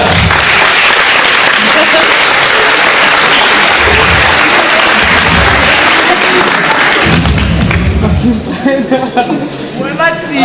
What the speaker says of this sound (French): Ah, on les applaudit bien sûr.